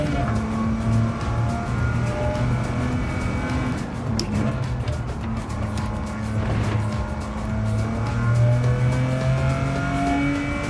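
Gran Turismo 7 race car engine, an older British car on a track, droning steadily throughout with rising and falling revs across gear changes, a continuous loud in-game engine note.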